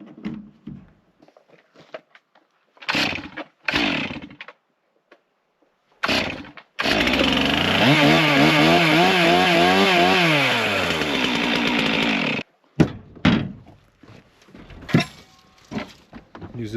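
A chainsaw with a cracked, patched cowling roars for several seconds while cutting firewood outdoors in Alaska, its pitch rising and falling as it bogs into the wood, with short revving bursts and knocks before and after.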